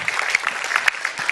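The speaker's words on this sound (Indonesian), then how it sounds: "Beri tepuk tangan sekali lagi untuk Pak Kiai Maman Imanul Haq." Audience applause at an Indonesian talk event honouring a Muslim cleric, a steady dense patter of many hands clapping close by with small irregular bursts, continuing without voices.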